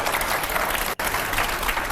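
Steady applause from a crowd, dense and continuous, with a momentary break near the middle before the clapping resumes at full strength.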